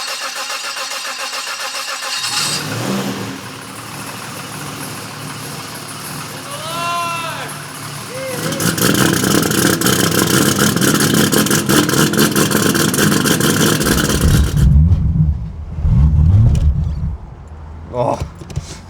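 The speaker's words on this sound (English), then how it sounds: "get this thing finally screaming with the Hypergear G42 turbo, the built turbo 400" A Holden VL turbo fitted with a Hypergear G42 turbo and a built Turbo 400 transmission cranks over, then roars into a loud, sustained rev that holds steady before cutting back near the end.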